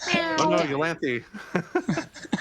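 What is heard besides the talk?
pet cat meowing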